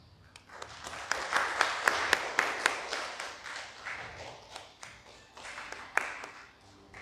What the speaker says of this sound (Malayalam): കൈയടിച്ച് പ്രോത്സാഹിക്കും.